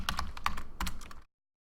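Fast, clustered key clicks on a computer keyboard sound close and alone for just over a second, then stop abruptly into silence.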